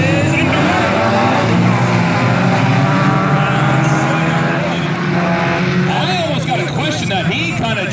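Ten 4-cylinder stock cars at Valley Raceway roar off at the start of a heat race, a loud continuous blend of revving engines that rises and shifts as the pack accelerates, with a commentator talking over it.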